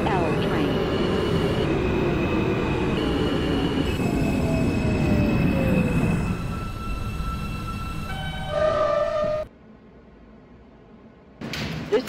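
A Manhattan-bound M local subway train, an R160A-1 running in the openBve train simulator game, rumbles along the track with squealing wheels and a falling motor whine, then slows to a hum as it stops, with a brief door sound at the end.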